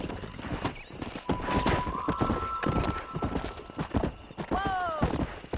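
Horse hooves clip-clop in the Red Dead Redemption video game as a rider gets moving, with a horse whinnying near the end and someone shouting over the galloping.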